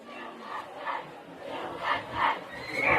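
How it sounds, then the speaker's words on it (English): Crowd at a high school varsity football game, Westerly Bulldogs vs. Burrillville Broncos, chanting in rhythmic swells of several voices at a moderate distance, rising and falling in repeated bursts. "There are chants going on out there now."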